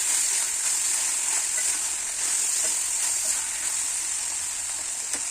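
Capsicum and other vegetables fry in a hot pan for a curry, giving a steady, close sizzle that stays at an even level throughout, with no voices and only a few faint stirring clicks.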